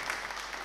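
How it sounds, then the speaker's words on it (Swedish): Audience applause at a public talk or panel event, a steady dense wash of clapping filling the whole moment at moderate loudness, with no talking over it. "Ge honom en applåd också."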